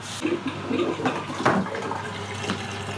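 Water gurgling and sloshing in a kitchen drain, irregular bubbling pulses with a louder surge in the middle, close by and moderately loud.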